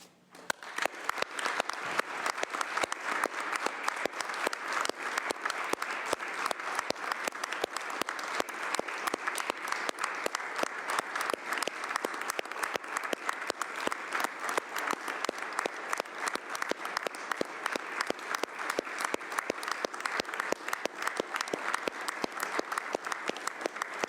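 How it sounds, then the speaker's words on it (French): An assembly in an extraordinary session stands and applauds in support of Ukraine, with dense, steady clapping from many hands that carries on loudly and evenly for over twenty seconds and has no speech over it. "je vais vous demander de vous lever et d'applaudir tous ceux qui se lèvent aussi en Ukraine"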